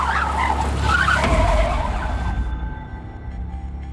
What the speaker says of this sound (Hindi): रियाज, गाड़ी घुमा।